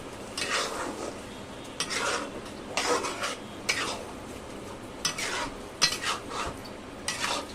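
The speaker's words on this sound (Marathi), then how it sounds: "आता ही साखर याच्यामध्ये छान अशी मिक्स करून घ्यायची." A spoon stirs sugar into pumpkin halwa in a pan, making repeated scraping bursts against the metal over a soft sizzle. The strokes come in an irregular rhythm and sound close by, with no talking.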